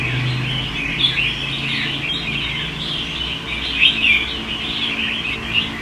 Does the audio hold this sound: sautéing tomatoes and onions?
no